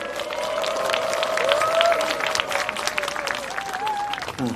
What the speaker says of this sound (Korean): 목사님 모실 때 박수로 환영해 주시면 감사하겠습니다